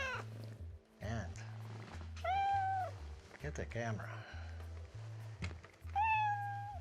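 A cat meows several times, loud and close, over a steady low hum, with drawn-out, rising cries, while a person talks between the calls.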